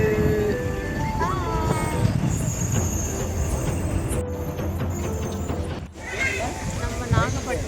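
A train rolls past at steady speed with continuous rumbling and rattling wagons and a few high wheel squeals, heard close while people talk over it.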